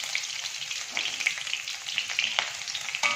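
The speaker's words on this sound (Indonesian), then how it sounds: "Sekarang kita masukkan bawang putih, bawang merahnya. Kita tumis sampai berharum." Garlic and shallots fry in hot oil in a pan, a steady close crackling sizzle with small pops and stirring scrapes scattered throughout.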